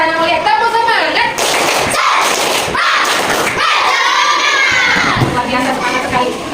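A group of schoolchildren in an Islamic religious education class performs the tepuk semangat clapping chant, loud and close, with rhythmic claps mixed into shouted voices throughout.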